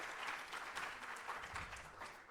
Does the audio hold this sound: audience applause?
yes